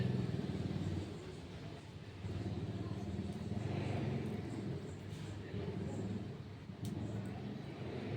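Motorcycles with loud mufflers ride past outside, a continuous rumbling engine drone that swells and fades over a few seconds, heard at a moderate distance.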